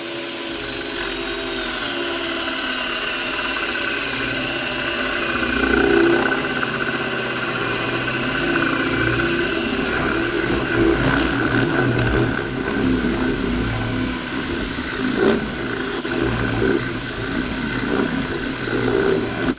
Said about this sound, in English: we've got our vacuum here now, and I'm just going to drill it through